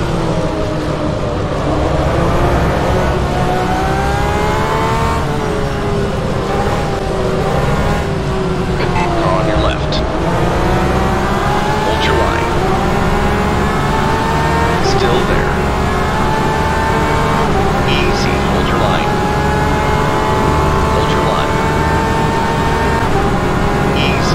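GTE-class race car engines in the rFactor2 racing game during a night race at Val de Vienne, loud droning revs rising and falling through gear changes, continuous for about twenty-four seconds.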